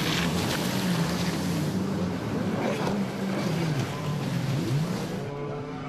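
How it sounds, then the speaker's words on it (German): A jet ski engine drones steadily on a river near a boat launch ramp in Niederkassel-Reit, with wind and water noise, its pitch wavering as it passes at moderate distance, no talk. "Und so haben die Jetski-Fahrer ihren Spaß, die Anwohner den Lärm."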